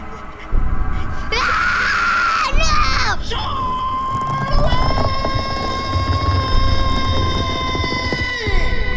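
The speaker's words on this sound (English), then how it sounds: "He waited that long to scream." A child's loud, wailing scream rises and breaks off in the horror video game Slender: The Arrival, followed by eerie droning tones and game ambience.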